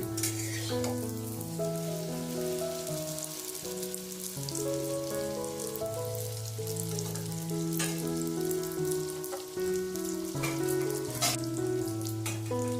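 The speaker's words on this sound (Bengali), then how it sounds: "তো দেখো আমি কিন্তু দুদিকটাই ভালো করে লাল করে ভেজে নেব।" Pea-filled kachuri frying in hot oil in a kadai, a soft continuous sizzle and crackle that runs faintly beneath louder background music, with no talking.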